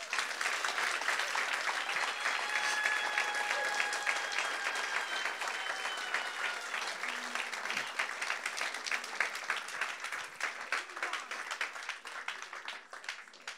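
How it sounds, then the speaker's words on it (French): Sustained applause from a large crowd, dense steady clapping that carries on for the whole stretch and slowly thins toward the end. "j'aimerais que juste un instant, on puisse les applaudir très très fort"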